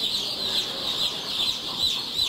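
A five-day-old chick peeps steadily, a string of repeated high, thin chirps in an uneven rhythm. The chick is close but quiet, alone with no talking.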